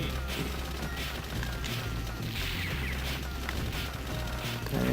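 Grenade blasts and rapid gunfire from the Neo Geo arcade shooter Shock Troopers, a dense, continuous barrage of booms and shots with low rumble running throughout, loud and busy with no letup.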